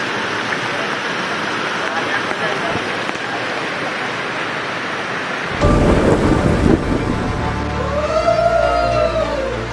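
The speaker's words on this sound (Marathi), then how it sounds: "आता खूप पाऊस आलेला आहे खूप म्हणजे खूप" Heavy rain and thunder pour down at the Palasdari waterfall, a steady dense roar of rainfall with a deeper rumbling burst partway through, loud and close, with people talking under it.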